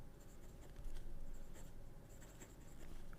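A steel number 6 medium fountain pen nib scratches across paper in short, close strokes, a soft continuous writing rasp with small pauses and no voices.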